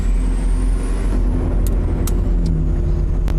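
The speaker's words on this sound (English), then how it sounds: "sounds like a pipe came off the muffler or a hanger broke or something" A car's exhaust drones from a pipe come loose from the muffler or a broken hanger, heard loud and close from inside the car as a constant low rumble with a few brief sharp ticks.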